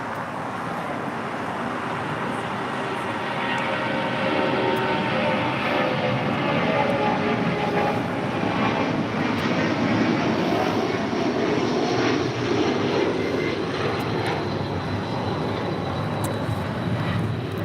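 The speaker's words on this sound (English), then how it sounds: "670 taking off to JFK on a 757-200" Delta Boeing 757-200 taking off bound for JFK, a loud sustained jet engine roar that swells in the middle and eases off toward the end, close by with no talking.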